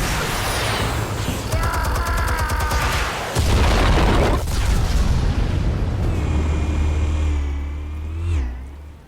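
Explosives detonating in a Batman video game: a deep, loud boom rolls out and rumbles on for several seconds, followed by lingering low roar and mechanical whine, with no talking.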